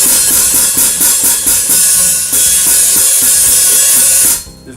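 Hi-hat stepped repeatedly with the bottom cymbal angled all the way out and fingers over its vent holes, a run of bright, splashy, hissing chicks with long sizzle between hits, loud and close, ending in a quick cutoff.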